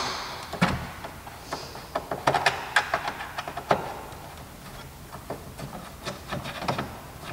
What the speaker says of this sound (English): In order to remove the third brake light, remove the screws.